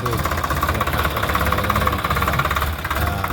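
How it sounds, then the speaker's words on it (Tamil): Swaraj 855 FE 4WD tractor engine running steadily at idle with a knocking chug, close and continuous, prepared for sowing in a field. "இந்த டிராக்டரை யூஸ் பண்ணி தான் இன்றைக்கி இந்த விதைப்பை வந்து நாங்கள் செய்ய போகிறோம்"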